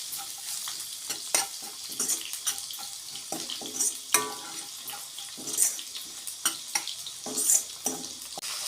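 Water is poured into a pan of frying spices and sundakkai for kuzhambu. Hissing sizzle and splashes sound close and loud, with repeated clinks and scrapes of stirring throughout.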